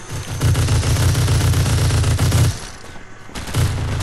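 Rapid sustained minigun fire in a first-person shooter video game, loud and continuous bursts with a brief pause before firing resumes.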